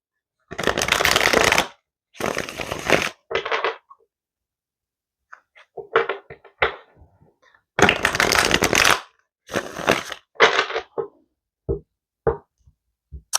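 A tarot card deck shuffled by hand in several bursts, loud riffling and flapping of cards followed by softer taps and shifts as the deck is handled, close up, with quiet gaps between.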